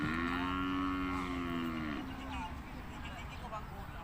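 Cattle at a beef cattle market, one animal letting out a long, loud moo that bends downward and fades, with crowd murmur and talking around it.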